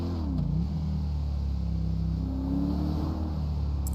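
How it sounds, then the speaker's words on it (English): Video game Dodge Charger sheriff patrol car engine, a throaty close-up drone that swells into two short revs, one early and one later, each rising in pitch before settling back to a steady rumble. "So it sounds nice and throaty like the other Charger."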